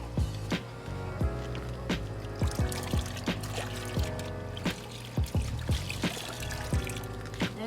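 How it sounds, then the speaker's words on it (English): Meguiar's soap and water poured for cleaning a dirty work truck interior, a continuous liquid pour with repeated sharp splashy knocks over a steady background. "just pour a little bit of Maguire soap"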